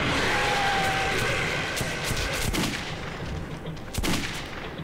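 Gunfire in the Metro 2033 video game, a dense continuous barrage with sharper shot transients near 2.5 and 4 seconds, loud and close over a constant noisy backdrop.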